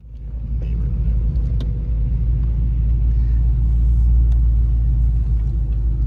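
A white Ford Mustang GT cruising on the road, its engine giving a steady low rumble that holds at a constant level throughout.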